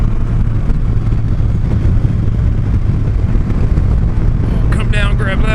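MV Agusta F3 motorcycle ridden along Ohio back roads, a steady close engine drone running throughout with gear changes and wind noise, while a rider talks over it.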